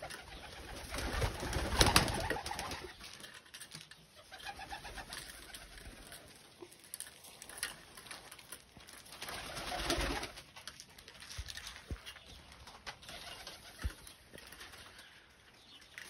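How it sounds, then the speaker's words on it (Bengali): Cross-breed and local white pigeon chicks coo softly and repeatedly at close range, with a brief flutter of wings partway through; otherwise the space is quiet. "এই যে সাদা কবুতরের বাচ্চা"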